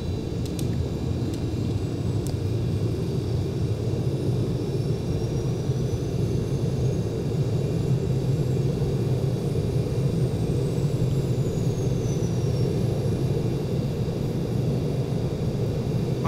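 Turboprop engine of a Super King Air B200 in a flight simulator, just after start-up: a constant loud droning rumble with a faint high turbine whine on top, steady throughout with a few brief clicks near the start.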